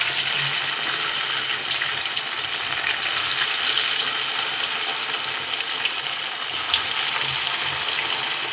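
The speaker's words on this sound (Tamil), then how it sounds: "இப்போ நம்ம தட்டி வச்ச ஜவ்வரிசி வடையை இப்போ எண்ணெயில் சேர்க்க போகிறோம்" Sago vadas frying in hot oil, a steady dense crackling sizzle that stays loud and even throughout, with no talking over it.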